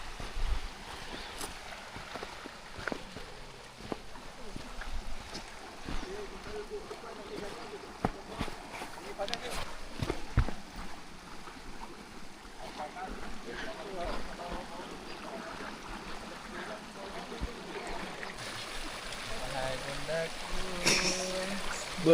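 Water trickles and laps steadily at a hot spring pool on Mount Rinjani, with soft splashes and scattered knocks, while people talk quietly nearby.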